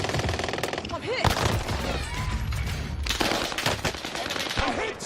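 Rapid bursts of automatic gunfire in a video game, dense rattling volleys and booms in a chaotic firefight, with players talking over the shooting.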